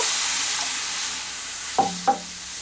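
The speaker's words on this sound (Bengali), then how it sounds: "কড়াইতে সামান্য জল দিয়ে নেব" A little water hitting a hot wok sets off a steady, close hiss of sizzling, broken near the end by two sharp metallic clinks.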